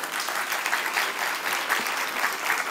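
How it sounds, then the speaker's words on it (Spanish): Steady applause for a children's choir at a music performance, many hands clapping together in a soft, even roar that holds for a few seconds without any talk. "diminuto aplauso para el coro"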